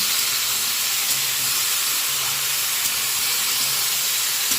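Salted vegetables frying in a pan, a dense, even hissing sizzle held at constant loudness, close and uninterrupted, with faint low rumbling underneath.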